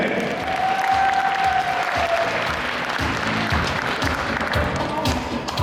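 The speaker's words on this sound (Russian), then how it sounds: "Аплодисменты!" A wedding crowd claps in sustained, even applause that stays loud and dense for several seconds, with some voices mixed in under it.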